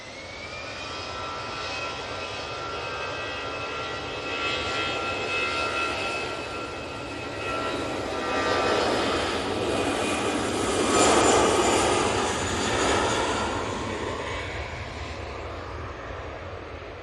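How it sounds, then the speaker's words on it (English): Jet engines of an Aer Lingus airliner spooling up at Manchester Airport before a short flight to Dublin, a steady roar laced with rising whining tones that swells in waves and peaks near the end. "we will throw it onto the Aer Lingus, which is just spooling up as I speak"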